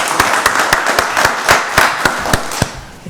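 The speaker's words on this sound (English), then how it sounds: "Give him another round of applause." An audience at a county board of commissioners meeting gives a round of applause, loud and close, with crisp sharp claps that are sparse and distinct and fade toward the end.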